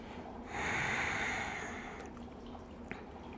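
Slow, steady breath during a seated yoga practice for anxiety, one long airy inhalation or exhalation swelling and then fading, close and soft, with no talking.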